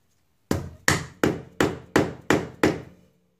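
Seven sharp, evenly spaced knocks of a wooden block hammering a trailer wheel bearing cover back into place, close and loud with no talking.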